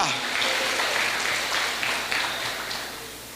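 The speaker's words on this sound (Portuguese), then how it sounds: "Você pode aplaudir o Senhor." Congregation applauding during a Portuguese-language church service, a steady wash of clapping filling the space for a few seconds and fading slightly toward the end.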